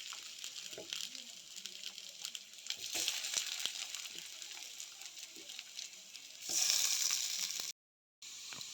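Fish and potatoes frying in a pan give a steady, fairly quiet sizzle, with scattered clicks of stirring and a brief louder surge of hissing near the end.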